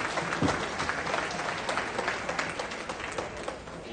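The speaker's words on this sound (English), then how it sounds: "Big round of applause to our donors at 197" Guests at an animal shelter fundraising gala auction applaud donors, a steady mid-distance round of clapping from a crowd with faint voices mixed in.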